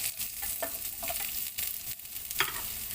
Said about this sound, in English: gonna just saute our onion until it gets translucent